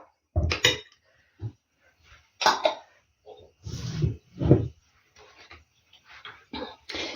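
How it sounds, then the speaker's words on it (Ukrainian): A spoon stirs a mayonnaise sauce thinned with a tablespoon of oil in a bowl, meant for hake, giving a few scattered clinks and scrapes against the bowl with short pauses between them. "І гарнесенько оце вимішаю."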